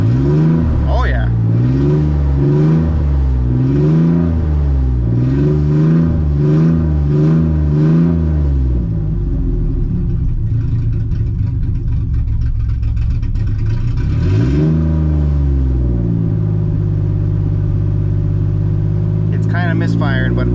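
A car engine revs repeatedly in rapid surges, then drops to a rougher, uneven running note that stumbles as if misfiring, loud and close throughout.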